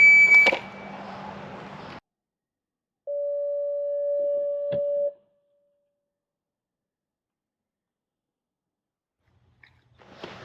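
An electronic shot timer sounds during a close-quarter self-defense drill: a short burst of noise, then a single steady two-second beep, followed by silence and a faint noise at the end.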